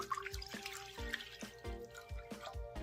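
Water, 16 ounces, is poured into a pot while cooking cabbage rolls and meatball tomato soup, heard as a soft, steady trickle with faint rhythmic dripping and clinks close by, with no talking.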